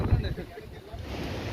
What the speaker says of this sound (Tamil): பேய் காற்று அடிச்சுக்கிட்டு இருக்கு பாருங்க